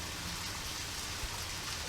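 Steady rain falls in the video game Deadly Premonition, a constant even hiss that fills the whole clip without change, with no voices heard.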